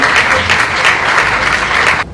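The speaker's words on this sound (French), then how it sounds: "Sur vos applaudissements, je vous en prie." Audience at the opening of an international audiovisual trade fair in Cameroon breaking into dense, loud applause, continuous close clapping that cuts off abruptly at the end.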